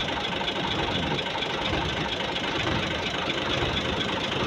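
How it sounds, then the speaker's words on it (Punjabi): A Massey Ferguson 385 tractor engine idles in a steady, dense, continuous rumble with a faint knocking texture, loud and close throughout, with no talking. "ਬਹੁਤ ਪਿਆਰਾ ਟਰੈਕਟਰ ਸਾਡਾ ਮੈਸੀ ਪ੍ਰਕੋਸ਼ਨ 85 ਮਾਡਲ"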